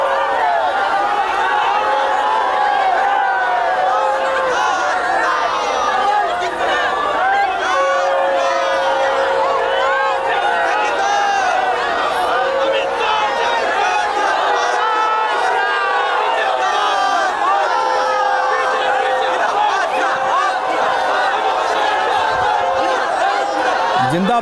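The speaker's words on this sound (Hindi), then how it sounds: "जिंदाबाद जिंदाबाद के जो नारे सुनाई दे रहे हैं" A dense crowd at Amit Shah's political roadshow in Bolpur, Bengal, chants Zindabad slogans, a constant roaring wash of many voices with rhythmic shouted calls repeating throughout.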